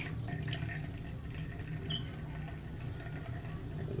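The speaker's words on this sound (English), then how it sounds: "we'll put the tap on. You can see the water is passing directly." Water from an open tap flows through faulty washing machine inlet valves that let it pass straight through, a steady close rushing trickle with small drips and splashes, fairly quiet and continuous.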